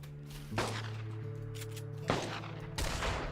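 Shotgun blasts in a video game: three sharp, loud reports spaced about a second or more apart over a steady low engine-like hum, no talk.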